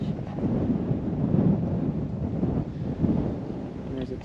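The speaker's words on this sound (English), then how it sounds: "You'll probably catch how windy it is." Strong wind gusting across a microphone beside the rough Pacific Ocean on a Hawaiian coast near the Kilauea volcano, a steady low roar with swelling buffets throughout, loud and close.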